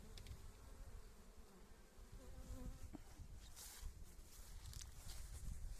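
Dense buzzing of many honeybees flying around apiary hives during a goldenrod nectar flow, a continuous droning swarm with individual insects passing close from time to time.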